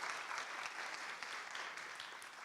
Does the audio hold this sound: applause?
yes